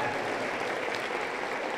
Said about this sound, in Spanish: Aplauso contento para Jesús.